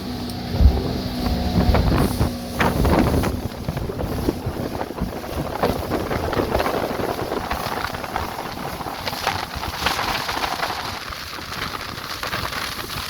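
A boat crossing rough water on Port St. Joe Bay, Florida, with a steady engine drone, slapping hull and water, and wind buffeting the microphone throughout, with no voices.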